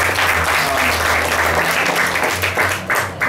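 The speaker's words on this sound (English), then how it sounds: "I want everybody to give a big round of applause for coming out tonight and supporting this after party." An audience at an after party gives a continuous round of applause, dense and fairly close, sustained for a few seconds without pause.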